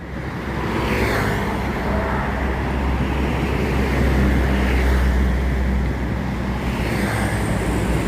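A bus travels along a wet road in Palembang, giving a steady low engine rumble with continuous tyre hiss and spray; the noise stays loud and even, with passing swells throughout.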